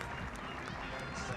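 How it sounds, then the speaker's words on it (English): Stadium crowd at a Sri Lanka versus Japan rugby sevens cup semifinal applauds a player onto the field, a faint, distant, continuous wash of clapping. "So the crowd applaud Shehan Patiran out to the field."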